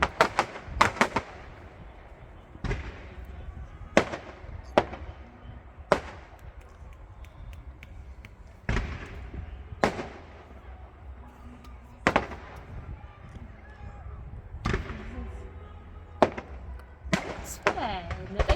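A fireworks display: sharp explosions burst at irregular intervals, some single and some in quick pairs, loud and echoing outdoors, with faint voices and background murmur between blasts.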